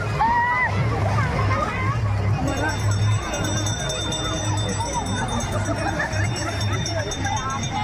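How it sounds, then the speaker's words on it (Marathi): People bathing in a river at an outdoor picnic spot, water sloshing and splashing close by amid a continuous babble of voices and children's chatter. "नदीत आंघोळ पण करतात"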